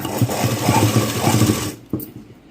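Sewing machine stitching a blouse runs in a steady continuous whir for nearly two seconds, then stops, followed by a brief mechanical clack and quiet.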